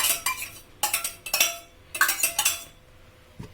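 Spoon scraping masala from an inner vessel into a pot of cooked chicken for a paleo pressure-cooked chicken manchurian, a series of close metallic clinks and scrapes in short bursts, no talk.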